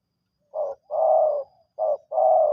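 A bird coos in four rounded notes, two short and two drawn out, clear and fairly close with nothing else behind them.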